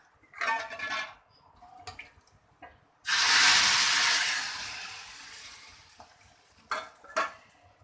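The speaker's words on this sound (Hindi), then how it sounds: "ऑयल डाला, ऑयल के अंदर प्याज डाली और जनाब हमने" Chopped onion hits hot oil for a tadka in a home kitchen, bursting into a loud, close sizzle that gradually fades, framed by clinks and scrapes of a pan and utensils before and after.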